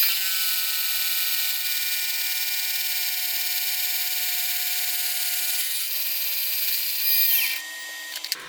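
A metal part for a hand jack plane being machined, giving a steady high whining hum with a bright tonal edge that runs unbroken, shifts pitch slightly partway through and drops away near the end, loud and close with no voices.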